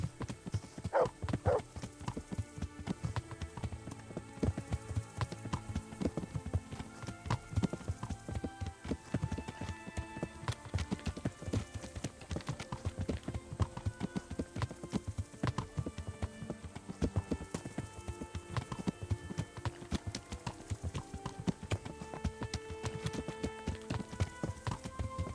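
Horse hooves clip-clop at a steady riding pace in Kingdom Come: Deliverance, a continuous rhythmic clatter mixed under layered game music and ambience throughout.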